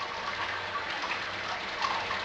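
Roughly 1.5 litres of water poured from a kettle over a grain bag during a brew-in-a-bag summer ale brew, a steady close splashing gush running continuously without a break.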